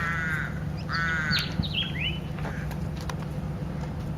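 Several loud, harsh squawking calls from large birds close by at Kings Canyon Resort in the Australian Outback, repeated in quick bursts over a steady background hum.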